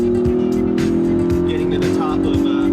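A 2013 Hyundai Genesis Coupe with the 3.8-liter engine drones steadily on a track, a loud sustained engine tone with a voice talking over it.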